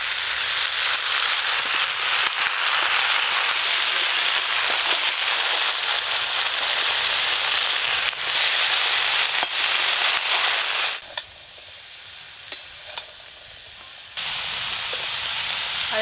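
Vegetables and soft stalks fry in hot oil in a pan, giving a steady, loud, crackling sizzle that carries on for most of the time before dropping to a quieter hiss near the end.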